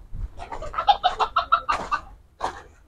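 Chickens in a backyard coop cluck in a quick run of short, close calls, a brief pause, then one more cluck, with no talking over them.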